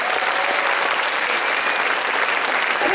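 Enthusiastic audience applause fills a hall at a craftsmanship cosplay contest at a spring convention, loud, dense and continuous clapping throughout.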